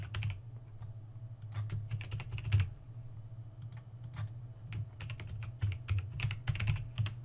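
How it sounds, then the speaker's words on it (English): Typing on a computer keyboard: quick, light key clicks in uneven bursts, close and fairly quiet, with short pauses between runs of keystrokes, with a steady low hum beneath and no talking. "And then you type in the answers."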